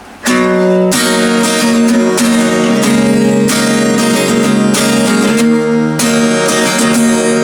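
A guitar strums full chords in a steady rhythm, loud and close, each chord ringing out with a few brief pauses between strums.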